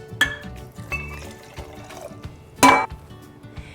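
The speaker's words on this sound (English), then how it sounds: "And then a 1/2 cup of warm water." Warm water pours into a glass jar holding salt, in a few short splashes and trickles, one louder burst near the end, while making a rosemary hair spray.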